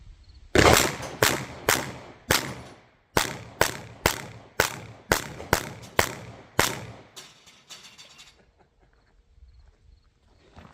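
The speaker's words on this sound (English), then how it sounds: "So now we'll try the rapid fire, see what happens." Rapid-fire shots from a compact 9mm pistol, a Ruger Max-9 or Sig P365, at a shooting range: about a dozen sharp, loud cracks in quick succession, each with a short decaying echo, then quiet.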